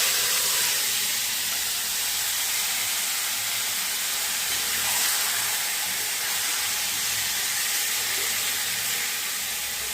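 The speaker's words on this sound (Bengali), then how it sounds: "তেলে জিরা, তেজপাতা আর শুকনো লঙ্কা ফোড়ন দিয়ে ম্যারিনেট করে রাখা মাংসগুলোকে" Marinated chicken hits hot oil tempered with cumin, bay leaf and dried chilli, giving a steady, fairly loud sizzle and hiss that holds evenly throughout with no talking.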